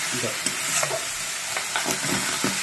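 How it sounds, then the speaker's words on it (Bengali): Crab dropped into a pan of spicy crab curry paste, frying with a steady sizzle and several stirring scrapes over a couple of seconds, no talk. "কাঁকড়ার ঝালের মশলাটা কিন্তু প্রায় কমপ্লিট হয়ে গেছে। কাঁকড়াটা দিয়ে দিই।"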